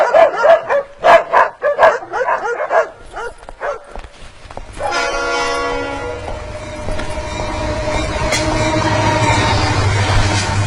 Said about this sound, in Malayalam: പുറത്ത് എന്റെ പട്ടി വല്ലാതെ കുരയ്ക്കുന്നു.